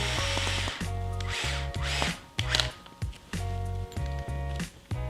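Cordless power driver tightening screws on a bead-lock ring of a 1.9-inch crawler wheel, in short whirring bursts that start and stop repeatedly, close and loud with no talking.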